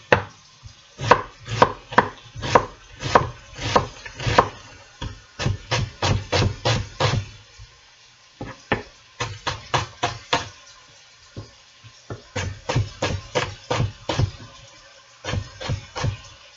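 A knife chops vegetables on a cutting board for red beans and rice, in close, steady bursts of rapid cuts separated by short pauses. Nobody speaks.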